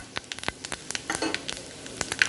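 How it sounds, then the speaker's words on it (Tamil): Mustard seeds crackle and pop in hot sesame oil while tempering for garlic chutney, a rapid irregular patter of sharp sizzling bursts up close. "இப்போ அடுப்பில் தாளிக்க ஆரம்பிக்கலாம். நல்லெண்ணெய் விட்டுக்கலாம். கடுகு சேர்த்துக்கலாம்."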